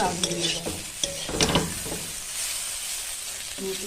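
Potatoes frying in a pan, a steady broad sizzle with a few stirring scrapes and clinks early on, close and moderately loud, with no voices.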